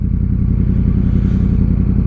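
A close motorcycle exhaust idles with a low, steady, rapid burble, throaty and continuous throughout.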